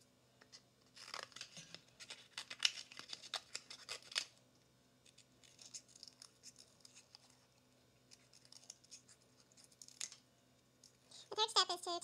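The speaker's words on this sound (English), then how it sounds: "Remember to ask permission to use the scissors." Scissors snipping through paper in a home craft setting, a burst of quick crisp cuts followed by sparser snips and a few rustles near the end.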